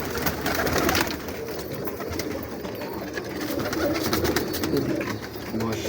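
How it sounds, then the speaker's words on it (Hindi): Pigeons cooing in a dense flock, a steady low murmur of overlapping coos with fluttering and faint background voices. "कोई सकी साहब वाले कबूतर है ओरिजिनल"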